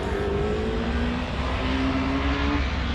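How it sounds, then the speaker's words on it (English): A race vehicle powered by a Hayabusa motorcycle engine salvaged from a wrecked bike drones loudly and steadily at a King of the Mountain racing event, holding one sustained, buzzing engine note with little change. "It's powered by a Hayabusa motor out of a wrecked motorcycle."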